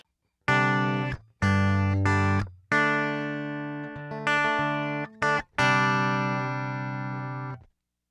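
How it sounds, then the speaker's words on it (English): Bright, undistorted Soldano Astro-20 clean-channel electric guitar notes and chords, without an IR, ring out in separate held phrases, each sustaining cleanly before cutting off, with silence between. "The clean sound without an IR is a fantastic, super clean sound."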